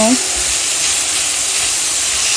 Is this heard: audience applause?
no